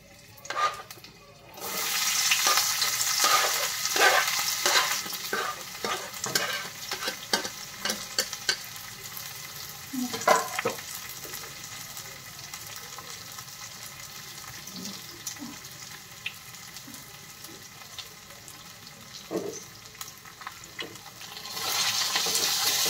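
Onions sizzle steadily in a pan, with scattered stirring clatters over a constant hiss, and no voices.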